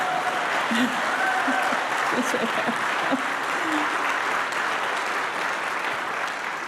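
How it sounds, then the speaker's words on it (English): Steady applause from a town hall audience fills the whole stretch, with a brief spoken remark heard through the clapping. "Give him a round of applause."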